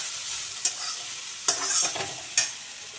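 Pumpkin frying without water in a pan, stirred with a utensil: a low sizzle underneath with three sharp scraping stirs, close and fairly quiet.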